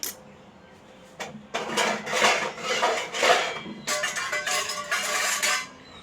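A spoon stirs a mango milkshake mixture of milk and cut mango in a vessel, giving uneven scraping and swishing strokes that swell and fade in bursts, close and fairly loud, with no talking.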